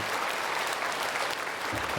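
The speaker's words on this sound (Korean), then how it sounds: "우리 크게 박수로 환영하겠습니다." A church congregation at a Sunday service applauds to welcome newcomers, with dense, steady clapping from a large crowd filling the room for the full stretch.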